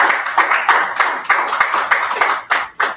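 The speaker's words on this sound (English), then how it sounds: "this is a round of applause for him one more time." A small audience at a business summit claps in a rhythmic, fairly close round of applause, with bursts of hands repeating roughly every third of a second, loud and clear without talk.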